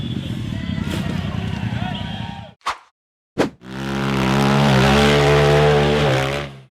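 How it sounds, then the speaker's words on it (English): Off-road buggy engine roaring hard as the machine climbs a steep rock face, loud and close, with a steady revving drone after a brief gap and a couple of sharp bursts. "The black buggy with the words 90 proof on it accelerated hard up a steep rock face"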